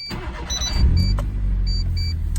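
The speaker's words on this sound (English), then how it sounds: "I'm going to start the car now" A Mitsubishi Colt's engine cranks and fires up, settling into a steady, loud low idle that rumbles on close by with no talk over it.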